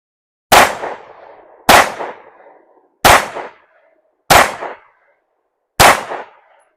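Five loud, sharp pistol shots from an Anderson Kiger 9C Pro firing 124 grain Winchester Ranger +P hollow points, spaced about a second apart outdoors at a range, each crack trailing a short echo.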